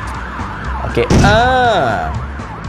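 An ambulance siren in the video game Stumble Guys wails in rising and falling sweeps, loud and close, with a voice briefly talking before it.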